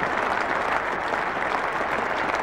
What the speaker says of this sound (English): Warm applause all the way around